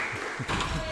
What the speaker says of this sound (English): the biggest applause so far